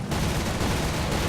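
Rapid aircraft machine-gun fire aimed at a Mustang in a flight combat video game, a dense, loud unbroken burst of rattling shots filling the whole moment.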